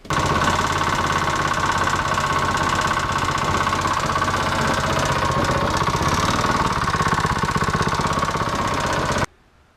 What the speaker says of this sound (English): It's making a knocking noise, which you'll hear, well, a little clip right now.